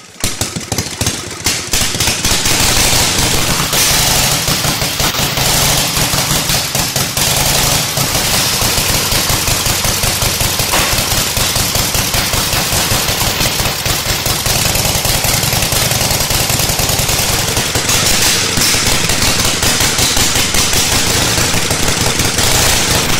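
A vintage board track racing motorcycle engine fires up and roars, a loud, rapid, hard-edged staccato of open-exhaust explosions running continuously and close for over twenty seconds.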